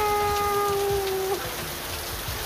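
Heavy rain pours steadily over a stadium construction site, a dense continuous hiss with a faint tonal hum fading out partway through.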